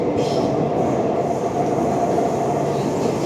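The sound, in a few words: underground metro train running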